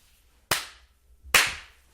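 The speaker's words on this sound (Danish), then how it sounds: "Det er det der filmklap, ikke?" Two sharp film clapperboard claps for a first take, each a crisp close snap with a short fading tail, spaced under a second apart in a quiet room.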